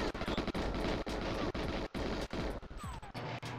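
Rapid enemy gunfire in the GoldenEye video game crackles in quick repeated bursts with brief gaps, fairly faint and steady, no voices over it.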